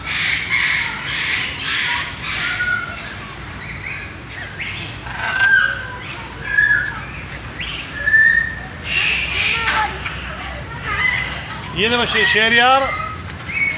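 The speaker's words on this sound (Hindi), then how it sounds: "देखो जी ये तोता देख रहे हैं आप" Parrot squawking in a park in Karachi, Pakistan, several loud harsh squawks and whistled calls repeated up close, with people talking throughout.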